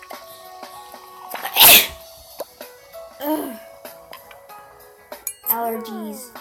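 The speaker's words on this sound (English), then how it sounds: "Oh, I want to sneeze." A single sharp sneeze bursts out, loud and close, while playing the cooking game Cooking Fever, followed by quieter background clatter and a brief rising electronic tone.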